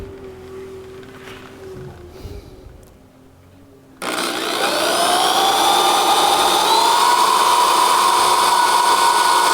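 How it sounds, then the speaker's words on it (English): After a quiet stretch of low rustling, a power drill suddenly starts and whines loudly and steadily, close by, as it bores all the way through a rotationally cast clear resin piece. "I'm going to drill all the way through"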